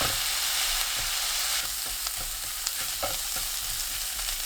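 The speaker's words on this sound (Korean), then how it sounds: "호박 넣고 중불로 켜서 1분 볶습니다." Squash stir-fried in a preheated pan with oil, minced garlic and green onion over medium heat, giving a steady close sizzle with scraping stirs and light utensil clicks throughout, no voices.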